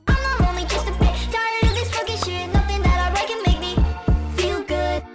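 Dense, loud hyperpop with pounding bass kicks, bright synth stabs and pitch-bending vocal-like leads, chaotic and heavily processed.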